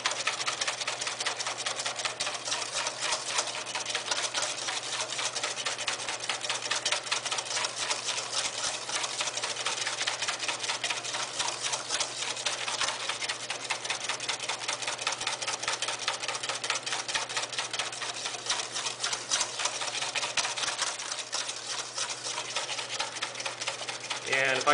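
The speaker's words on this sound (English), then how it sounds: "I'm building the emulsification. Notice how I'm using the whisk." A whisk beats a hollandaise sauce emulsion in a bowl, a rapid steady metallic ticking and swishing rhythm, close and continuous, with a faint constant hum underneath.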